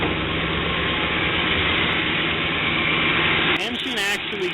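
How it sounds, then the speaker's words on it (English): A stock 1968 Ford Galaxie 500 idles outdoors with a warm, understated exhaust, a steady low rumble that runs evenly before abruptly dropping away near the end. "The engine actually sounds quite good when it's running warm"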